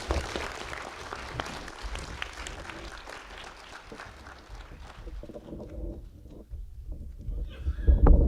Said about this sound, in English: How about a round of applause to our keynote speaker, Helen Hope Hayes.